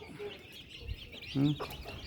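A hen with a brood of desi and silky chicks gives a few soft clucks close by, amid faint peeping and low background noise.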